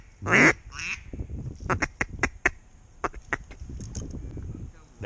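Mallard duck quacking during a duck hunt before a snow storm, a loud raspy quack near the start followed by a quick series of shorter quacks, with a voice talking around them.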